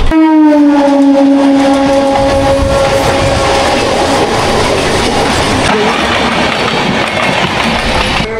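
The Paharia Express from Digha to NJP rolls along loudly, opening with a sustained horn that fades into steady, close rumbling and clattering of the wheels on the rails.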